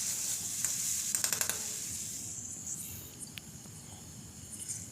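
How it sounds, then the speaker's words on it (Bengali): Masala spice paste for bitter gourd fries in a pan with a soft, steady sizzle and a few quick clinks of stirring near the start. "খুব ভালোভাবে 2 মিনিট ধরে নিয়ে মশলাটাকে খুব ভালো করে এখন কষিয়ে নিয়েছি"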